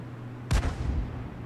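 A single SPG artillery shot in a tank video game, one loud booming blast with a rumbling tail that fades quickly.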